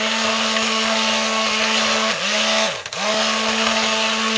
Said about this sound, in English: see how I'm doing this extra rocking motion with the stick blender down in the crock so it won't spew